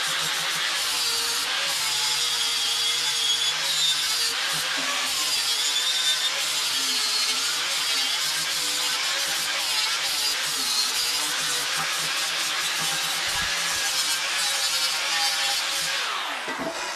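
A power tool grinds on the welds of a metal ski and snowboard rail in a steady, loud, harsh whine that runs unbroken for the whole stretch and eases off only at the very end. No speech.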